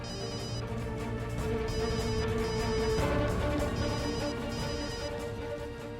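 Mobile phone ringtone signalling an incoming call in a domestic Hindi drama scene, a steady melodic ring playing continuously and fairly loud for several seconds with no talk over it.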